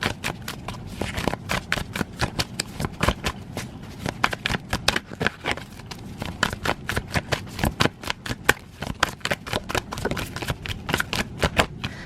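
A deck of tarot cards is shuffled by hand, giving a long run of rapid, close riffling flicks and soft slaps in an uneven, steady rhythm.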